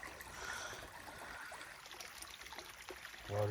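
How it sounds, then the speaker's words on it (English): A small woodland creek flows steadily along a hiking trail, a faint, continuous trickle and babble heard alone, with a brief louder splash at the end. "Water's moving really good."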